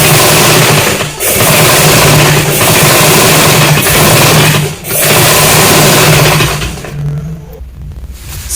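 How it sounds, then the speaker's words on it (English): A sewing machine stitches trimmings onto a kaftan bubu in loud, steady runs, with brief pauses near 1 and 5 seconds, before the motor stops and the sound drops away near the end. "So now we're now sewing the trimmings on it."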